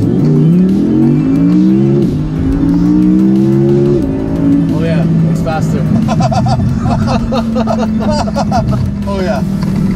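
A tuned Audi sports car with an 80 hp tune accelerates hard, its engine note climbing loud and close through several rising pulls, with people talking over it.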